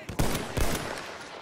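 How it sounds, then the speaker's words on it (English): A couple of punchy shots from a newly picked-up gun in Battlefield 1, two close booming reports about half a second apart with a short echoing tail. "This gun does sound way cooler than the other one, though."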